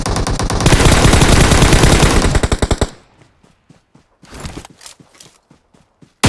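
Rapid automatic gunfire from a battle royale shooter game fills the first three seconds with loud, dense bursts, then gives way to scattered single shots and soft footstep-like thuds.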